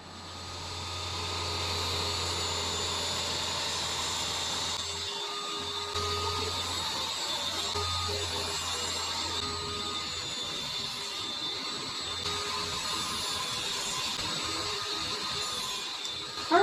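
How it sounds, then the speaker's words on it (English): A table saw runs steadily at close range, its motor hum and high whine holding for the whole stretch while it cuts decorative dados into the sides of a wooden table salvaged from a dumpster, with brief dips in the low drone. "I'm going to head over to the table saw and put some decorative dados on the sides."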